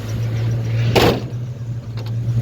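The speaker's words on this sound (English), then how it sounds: "Just shut this original bonnet" A 1971 Ford XY Falcon GT's original bonnet thumps shut near the middle, a short sharp impact over a steady low engine idle.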